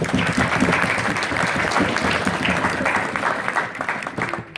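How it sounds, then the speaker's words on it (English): A banquet audience at a regional organization's annual gathering breaks into sustained applause, dense clapping filling the room and tapering slightly near the end. "Please give a round of applause for Heather and Steph."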